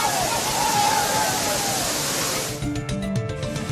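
Tourists bathe beneath the Thirparappu waterfall as water crashes down in a loud, steady broadband roar, with faint crowd babble and shouts mixed in near the end.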